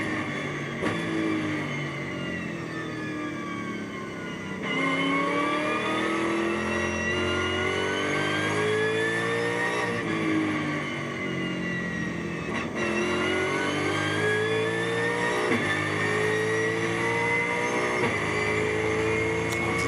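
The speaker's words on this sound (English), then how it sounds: "Let's just listen into this lovely V8 engine for a second." A GT4 race car's V8 engine at Spa revs hard and loud, rising in pitch through the gears with brief dips at each shift, then blipping and burbling on the overrun on the downhill run.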